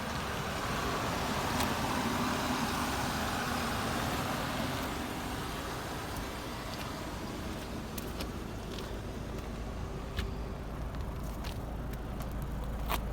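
A steady, low Audi wagon engine with 270,000 miles idles continuously, with a constant rumble and faint occasional ticks.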